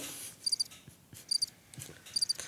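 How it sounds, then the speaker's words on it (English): A cricket-chirp sound effect plays in three short bursts of shrill, rapid trills separated by quiet gaps, with faint low background noise. "I meant to do the Crickets."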